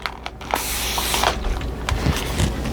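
Isopropyl alcohol is spritzed from a spray bottle onto a resin mold in a few quick hissing bursts, close by, with faint handling clicks and no talking.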